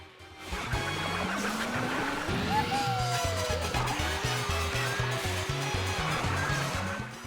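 Fast, pitched-up final-lap Baby Park music from Mario Kart 8 plays steadily and loudly throughout, with a bouncy bass line and kart engine and skid sounds mixed in.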